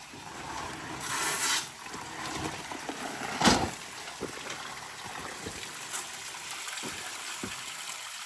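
Water rushes freely out of a storm-damaged DIY pond once its dam is moved aside, a steady close gushing flow with occasional splashes and knocks.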